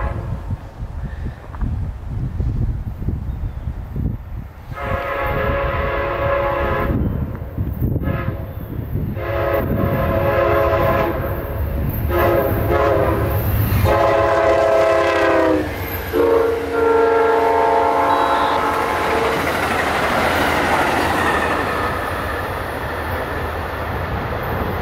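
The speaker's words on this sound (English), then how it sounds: "that's Amtrak P080, northbound Carolinian, with a very nice Canadian tuned horn" Amtrak P080, the northbound Carolinian passenger train, sounds a Canadian-tuned horn in several loud, sustained chords, broken by short gaps, while the train rumbles steadily past nearby with no talk.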